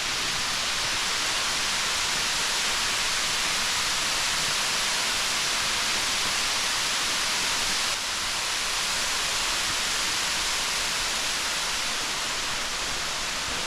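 A waterfall near Lake Kawaguchi, Japan, at a sacred power spot, pours in a steady, full rushing roar that never lets up, close and unbroken, with no voices.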